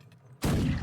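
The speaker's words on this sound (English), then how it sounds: "These cannons fire surprisingly high, especially compared to the land cannons." Ship cannons fire in a naval video game: one sudden, loud, broadband blast that bursts in and then sustains a rumbling roar, with no talk over it.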